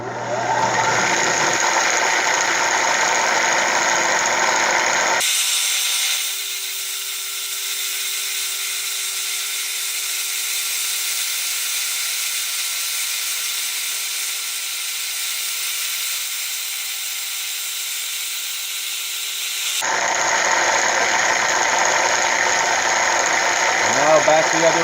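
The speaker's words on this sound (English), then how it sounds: "So now we're cleaning up the back. This is conventional milling." Milling machine conventional milling aluminum, cleaning up the back of the part; a steady loud whining cut that drops to a quieter drone mid-way, then returns to the full cutting roar near the end.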